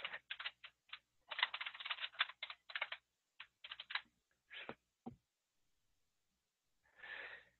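Someone types a password on a computer keyboard, producing quick, uneven bursts of close key clicks with short pauses, then a longer gap and a soft breathy rustle at the end.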